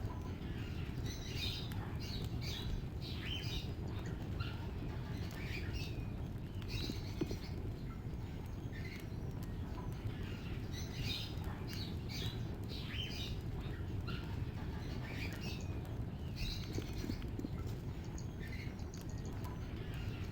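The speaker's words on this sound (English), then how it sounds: "See a small bird flying through the branches of the aviary." A small bird in an aviary in Baldur's Gate 2 gives scattered chirps and tweets over a steady rustling, pattering ambience that continues evenly throughout.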